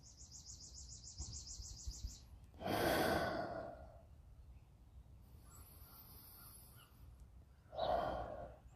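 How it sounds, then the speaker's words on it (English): Slow cleansing breaths during a guided meditation: two long, loud exhalations a few seconds apart, each a breathy rush, over a quiet room with faint bird calls in the background. "When my mind wanders, sometimes I'll do those cleansing breaths like I'm just showing you."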